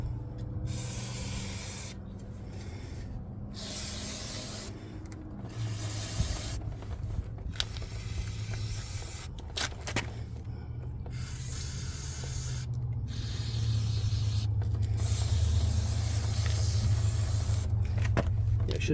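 Long pressurized hisses of brake cleaner spray onto the front brake rotor and pad area of a 2016 Kia Sorento SX, in repeated bursts with brief gaps, close and loud, with a steadier spray near the end.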